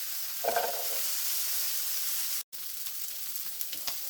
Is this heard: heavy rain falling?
no